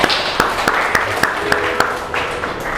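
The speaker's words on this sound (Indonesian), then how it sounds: "Tepuk tangan untuk Aridwan." Students in a classroom applauding a classmate, a loud, sharp run of claps near the microphone with scattered clapping behind, tapering toward the end.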